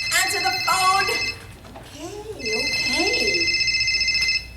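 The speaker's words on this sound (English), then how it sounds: "Answer the phone." A telephone rings in two bursts of trilling electronic ring, loud and close, with a short gap between them. Sing-song vocal sounds fill the pause.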